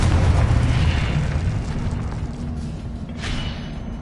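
A Confringo spell blast in Hogwarts Legacy on PS5, a loud low rumbling explosion that rolls on and slowly fades, with a brief whooshing flare near the end.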